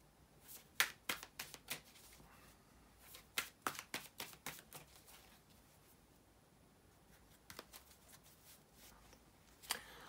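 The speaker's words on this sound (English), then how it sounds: "bear with me just a couple of seconds, guys, to shuffle the tarot cards" Tarot cards are shuffled by hand in close, quiet bursts of crisp riffling and slapping, clustered at the start and again near the end with soft pauses between.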